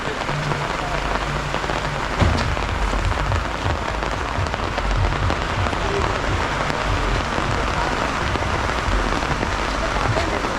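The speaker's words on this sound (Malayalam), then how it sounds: "പക്ഷേ നല്ലൊരു മഴയാണ് ഇവിടെ" Heavy rain pours steadily onto surfaces nearby at Illikkal Kallu in Kerala, a dense, unbroken hiss with no voices.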